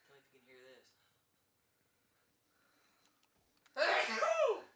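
A single sharp sneeze bursts out near the end after a stretch of near silence, loud and breathy, with brief voice sounds at the start.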